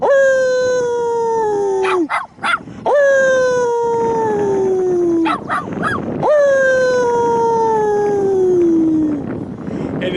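A dog howls up close at sirens in three long, sliding wails, each one drifting downward in pitch, with short breaks and small yips between them.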